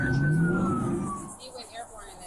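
A police siren wailing in the background, a rising and falling tone that fades as the vehicle moves off, heard at moderate level under engine and road noise.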